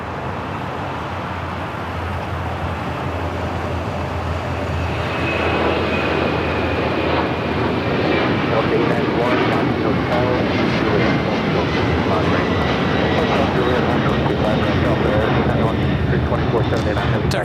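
An airliner bound for Lima, Peru, taking off at LAX, its jet roar building steadily from moderate to loud and holding strong, with a rising engine whine and a voice talking over it.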